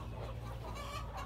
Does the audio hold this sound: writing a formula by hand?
no